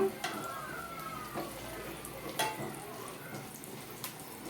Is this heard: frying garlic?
yes